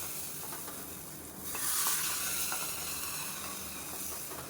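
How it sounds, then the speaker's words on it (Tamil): Hot asafoetida tempering hits carrot and beans kootu with a sudden sharp sizzle and hiss, rising over low frying crackle and then settling into a steady simmering fizz, close and alone. "தாளிப்பு ரெடி ஆயிடுச்சு அதை எடுத்து இதை கொட்டிடுவோம்"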